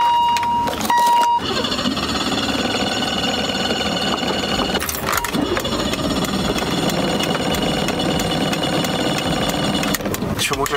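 A BMW 635CSi with a fuel supply problem cranks and its engine catches, a loud close rough churning run that cuts out briefly, then keeps going under the cabin noise, with a short tone near the start.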